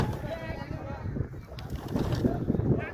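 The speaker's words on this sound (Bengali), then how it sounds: "বাতাস আর বাতাস," Wind gusts buffet the microphone on the Cox's Bazar seashore of the Bay of Bengal in the late afternoon, a rough, fluctuating roar with someone talking faintly beneath it.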